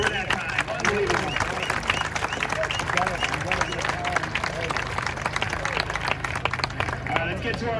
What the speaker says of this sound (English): A big round of applause for that time.